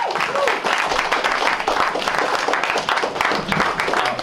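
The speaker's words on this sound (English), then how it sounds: "long round of applause" Audience applause at a final concert, a long, dense round of clapping from a crowd that stays loud and steady throughout, with some indistinct voices mixed in.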